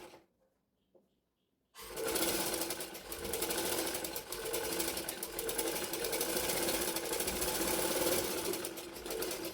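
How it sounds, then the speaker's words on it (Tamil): A sewing machine stitches a blouse front part straight down from the shoulder, starting after a near-silent pause with a couple of faint taps, then running loud and continuous with a fast, even mechanical rattle. "அதை எடுத்து ஷோல்டர்லேருந்து அப்படியே நேராக தைக்க ஆரம்பிக்கலாம்."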